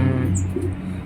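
A short, bright call from an Asian pied starling rings out once over a low background hum, close and fairly loud.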